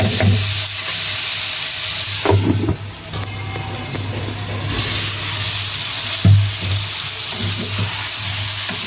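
Tomatoes fry in a pan for desi chicken curry with potatoes, giving a steady close sizzle and hiss broken by several scraping stirs of a spatula.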